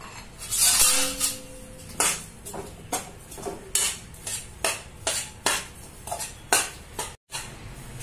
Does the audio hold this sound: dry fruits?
yes